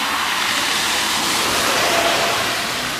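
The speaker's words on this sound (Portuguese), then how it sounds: "É desse bueiro aqui que sai toda a água, vai para a Avenida Josué Alves Marques." Rainwater gushes out of a street storm drain onto an avenue during a heavy downpour, a loud, steady broadband roar of rushing water, close and continuous with no talk.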